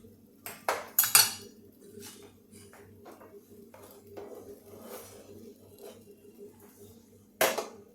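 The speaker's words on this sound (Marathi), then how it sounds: "चटणी करण्यासाठी मी छोटं पॅन आधी त्याच्यावर ठेवते आहे गॅसवर" A small metal pan is set onto a gas stove in an Indian home kitchen, giving a few sharp clanks and scrapes near the start and another clatter near the end, close and moderately loud, with no talking.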